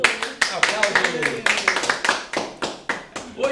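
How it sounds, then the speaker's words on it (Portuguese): A television show studio audience claps for performers being introduced, with sharp, close hand claps in an irregular, slightly uneven rhythm, each slap distinct, while a voice talks over it. "Aplausos"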